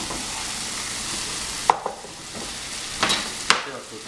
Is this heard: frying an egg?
yes